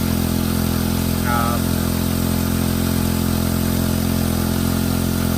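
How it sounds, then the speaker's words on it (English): A high banker dredge engine running at about quarter throttle, a loud, steady mid-pitched drone close by that holds a constant speed throughout, with a voice heard briefly over it. "get it started. That's about quarter throttle, roughly"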